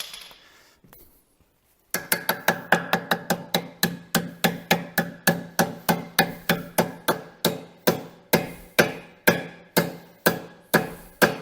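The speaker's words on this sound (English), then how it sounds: "Get the copper hammer." Rapid, regular metallic taps from a copper hammer striking a Massey Ferguson front axle kingpin, a steady series of sharp strikes on metal, close and fairly loud with no talk.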